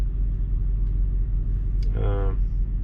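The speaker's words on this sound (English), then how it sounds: "the guy is just idling his truck" A truck engine idles as a steady low rumble throughout, close and continuous, with a brief louder mechanical swell partway through and no one speaking.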